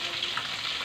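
Food fries in a pan with a steady, close crackling sizzle, unbroken and without talking.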